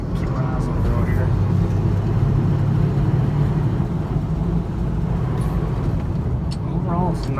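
A 1967 C20 pickup truck drives along a road, its engine and road rumble forming a steady low drone from inside the cab while someone talks over it.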